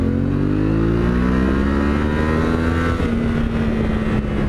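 A Yamaha Tenere 700 motorcycle pulls hard in a lower gear, its engine note rising steadily in pitch, loud and close with wind rush, then a brief dip at a gear change before it climbs again.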